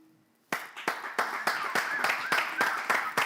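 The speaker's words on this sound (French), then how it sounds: "On continue d'applaudir." Audience applause at a televised event, a string of rhythmic hand claps repeating roughly every third of a second after a brief quiet start, fairly close and steady.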